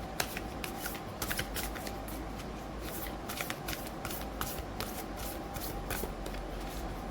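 A deck of tarot cards is shuffled by hand up close, giving a continuous run of crisp riffling snaps and papery flutters with small irregular bursts, with no talking over it.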